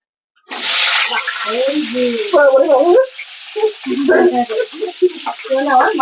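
Fish sizzles loudly as it is slipped into hot oil in a pan for a spinach and radish curry made with a fish head, the sharp initial hiss settling into steady frying under a talking voice.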